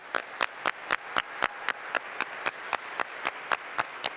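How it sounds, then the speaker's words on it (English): At a graduation ceremony, evenly spaced single claps ring out close and crisp at a steady rhythm, roughly four per second, over a quiet background rather than a full crowd's applause. "Let's go ahead and give a round of applause to our families and those who have passed."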